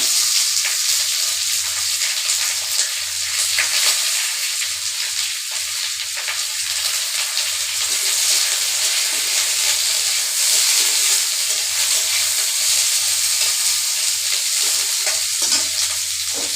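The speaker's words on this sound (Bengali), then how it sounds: "ওখানে আমি এই যে পেঁয়াজটা দিয়া দিব লাল লাল করে ভাজা করুন" Onions frying in a pan as part of a ridge gourd and fish paste dish, a steady close sizzle with occasional stirring scrapes running continuously throughout.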